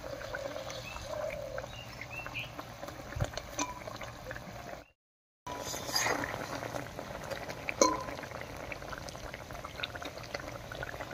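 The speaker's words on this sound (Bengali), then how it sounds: "জলটা খুব ভালো করে ফুটে গেছে" Water at a rolling boil in a cooking pot for pumpkin leaf paturi, a steady bubbling churn that runs on evenly apart from a brief silent gap partway through.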